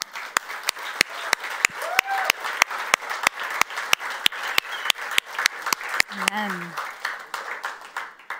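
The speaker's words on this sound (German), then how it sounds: "Denkt ihr, wir können unsere Dankbarkeit mit einem Applaus an Gott zeigen?" Congregation clapping in a rhythmic, steady beat at a Harvest Festival church service, the claps sharp and evenly spaced throughout, with a voice calling out over them and a brief sung or spoken phrase near the end.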